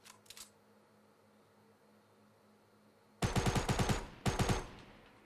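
SMG fire in Fortnite: after a quiet stretch with a faint early click, two loud rapid bursts of close automatic shots rattle out in quick succession.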